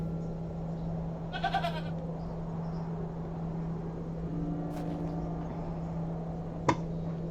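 A goat in the video game Hob's Barrow bleats in a short trembling burst, then stays quiet above a steady low hum and faint background ambience, with a brief sharp click near the end.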